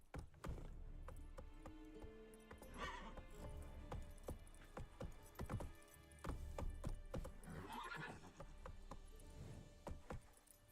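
Geralt's horse Roach in Witcher 3 gives two whinnies amid steady hoof clops, close and fairly quiet.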